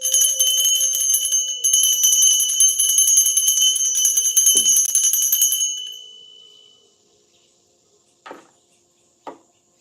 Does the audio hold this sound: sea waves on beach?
no